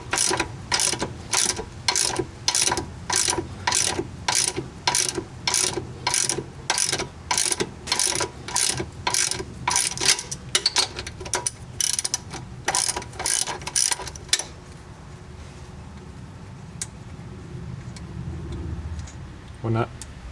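A ratchet wrench loosens the differential-to-housing nuts on a 2012 Honda Foreman ATV with a long run of rapid, evenly spaced close clicking strokes that stop partway, leaving quiet room tone.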